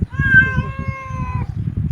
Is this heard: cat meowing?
yes